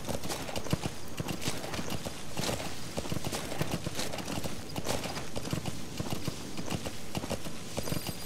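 Horse hooves clip-clop at a steady trot in the video game Metal Gear Solid V: The Phantom Pain, loud and continuous over an outdoor ambience with no talking.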